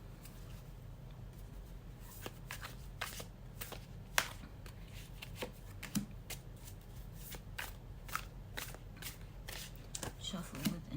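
Tarot cards being shuffled by hand, a run of soft papery riffles and sharp card slaps at an irregular rhythm, close and fairly quiet with no talk over it.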